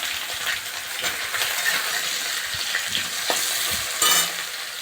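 Green banana and brinjal sizzle steadily in a pan of hot oil for a mixed vegetable dish, with several clattering scrapes of a spatula stirring them, close and moderately loud.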